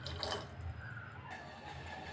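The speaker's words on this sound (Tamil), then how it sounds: "3 டேபிள் ஸ்பூன் தண்ணி சேர்க்குறேன்." A small splash of water is poured onto jaggery in a pan, a brief soft liquid trickle at close range with a quiet kitchen background.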